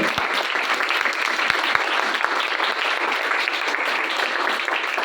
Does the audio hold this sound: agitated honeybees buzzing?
no